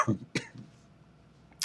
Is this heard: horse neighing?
no